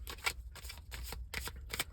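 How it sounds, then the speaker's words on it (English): Tarot cards being shuffled close by, in four or five quick papery riffling bursts separated by brief pauses. "I'm just going to see what comes out in the rest of this shuffle and in this deck"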